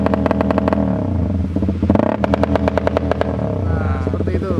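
Honda CBR K45 engine revving hard in repeated bursts, sharp staccato cuts from a quickshifter or rev limiter popping through the blips, close and loud, with brief pauses between pulls.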